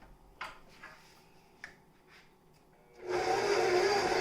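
Stand mixer starting up at low speed to knead sourdough pizza dough, a steady loud motor hum that kicks in after a few soft clicks and handling knocks, close by.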